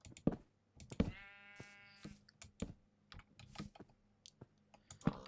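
A single sheep bleat in a video game rises over rapid keyboard clicking and mouse taps, with scattered clicks continuing after it fades.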